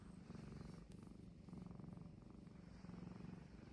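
A small kitten purrs close and steady, its soft rhythmic rumble pulsing in even cycles throughout.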